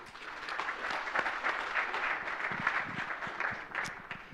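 Moderately quiet audience applause for a startup presenter at a digital innovation event, steady scattered clapping lasting several seconds.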